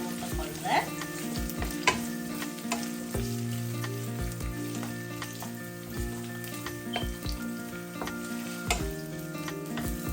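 Sliced big onion and green chillies frying in a pan of oil for a Sri Lankan egg curry, a steady close sizzle with intermittent scraping stirs and clinks, no talking.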